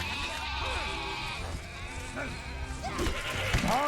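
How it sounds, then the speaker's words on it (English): Sheep bleat repeatedly in the fantasy video game Overlord, several calls rising over a busy game soundscape with a steady background bed, with a loud close bleat near the end. "We're just going to murder all these sheep."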